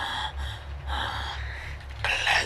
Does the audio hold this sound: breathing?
yes